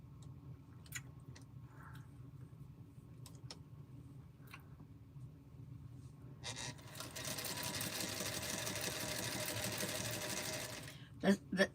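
A Singer Featherweight sewing machine quilting, starting after several seconds of quiet with sporadic ticks, then a steady close whirring run of fast stitching before it stops with a few clicks; a voice talks softly.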